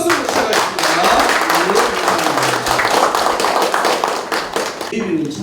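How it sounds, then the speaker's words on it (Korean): Audience applause opening a special invitation meeting with the Gwangju regional tax office chief, dense hand clapping from a seated crowd, loud and sustained for about five seconds before tapering off. "큰 박수로 시작하겠습니다."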